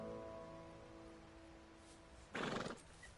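A horse in the video game Red Dead Redemption 2 gives a short, breathy neigh near the end, over a faint, low-level game background with soft hoof sounds.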